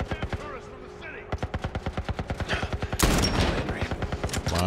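Automatic gunfire in The Last of Us video game, long rapid bursts of rhythmic shots, loud and close, ending in a denser barrage, with a voice talking in between.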